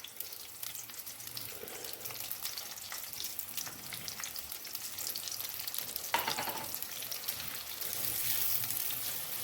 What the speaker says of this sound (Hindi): इसको अच्छे से हम भूनेंगे।